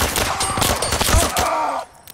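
Rapid bursts of automatic gunfire fill a Zero Caliber video game firefight, dense and loud for about two seconds before cutting off.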